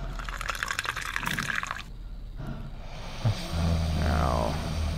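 In The Cat Lady, liquid pours from a bucket with wet sloshing and dripping, a dull thud, then a steady gurgling fill that rises in pitch.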